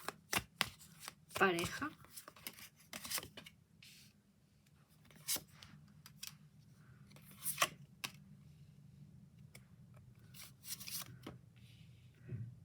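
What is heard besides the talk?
tarot cards being shuffled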